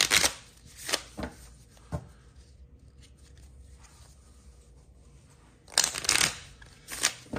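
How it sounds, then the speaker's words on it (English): Playing cards shuffled by hand at a tabletop game, a few quick riffling bursts near the start, a quiet pause, then more crisp riffles toward the end. "I'm going to give these a couple shuffles"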